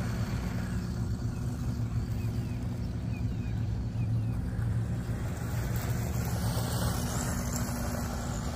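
A Tamiya Fast Attack Vehicle RC car drives and fishtails around a ball park, giving a steady, continuous motor rumble at an even level throughout with no voices.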